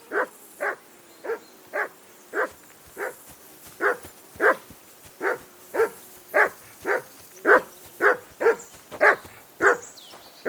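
A dog in the medieval role-playing game Kingdom Come: Deliverance 2 barks about twenty times in a steady, evenly spaced run. The barks are loud and close, with no talk over them.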